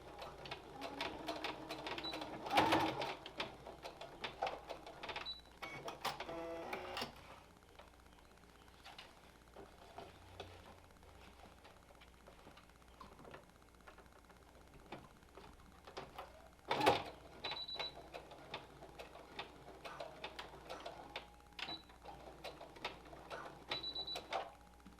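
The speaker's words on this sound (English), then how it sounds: "we're going to take it to the machine and we're going to do a little bit of a top stitch to help hold the elastic in place" A sewing machine top-stitches elastic in place on a fitted fabric mask. Quiet intermittent stitching and clicks are heard, with two louder bursts of mechanical noise.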